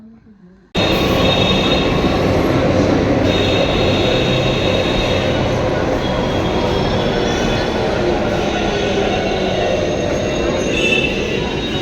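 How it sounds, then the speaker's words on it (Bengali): A metro train pulls into a station on the line toward Dum Dum. A loud roar bursts in after a moment of quiet, then holds steady with squealing wheels and a rumbling rattle close by. "তারপর দেখো মেট্রো মানে ট্রেন ঢুকে গেছে"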